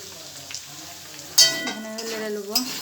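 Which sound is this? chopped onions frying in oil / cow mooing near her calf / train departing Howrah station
chopped onions frying in oil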